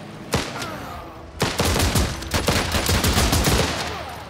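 Soldiers fire rifles and machine guns in the video game Last Train Home: a single sharp shot, a short pause, then dense, loud, continuous volleys of rapid gunfire.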